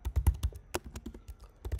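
Fast computer keyboard typing while git commands are entered, a close, dry run of irregular key clicks with a few heavier thumps, no voices.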